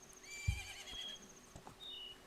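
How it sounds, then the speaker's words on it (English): Epona the horse in Zelda: Majora's Mask gives a faint, brief whinny near the start, then a couple of softer snorts over quiet game ambience. "I'm going to have to deal with Epona neighing a lot"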